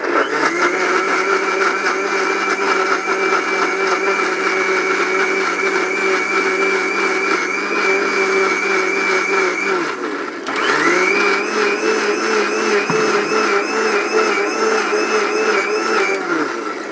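A commercial mixer grinder blends ginger and garlic with a loud, steady, high-pitched motor whine and churning, stopping briefly partway through and then spinning back up, close and continuous with no talking.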